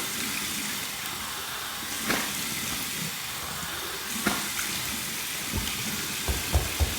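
Running tap water splashing in a sink as a face is rinsed after a shave with an adjustable safety razor, a steady hiss with a few louder splashes near the end.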